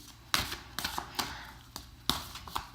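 Tarot cards are shuffled close up in several quick, crisp riffling bursts separated by brief pauses, with no voices over them.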